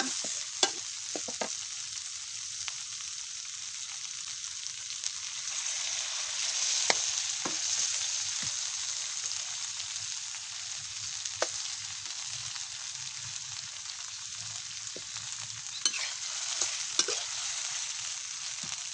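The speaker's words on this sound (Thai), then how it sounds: "ผัดเนื้อให้สุกค่ะ" Beef stir-fried in coconut curry paste for a Thai red curry with eggplant, a continuous soft sizzle broken by sharp scraping clicks of a utensil against the pan at irregular intervals, no talking.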